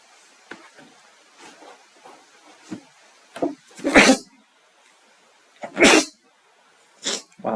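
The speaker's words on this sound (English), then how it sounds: "I sneezed twice." A streamer sneezes twice, two sharp, loud bursts several seconds apart, with quieter soft rustles and small handling noises scattered around them and a third shorter burst near the end.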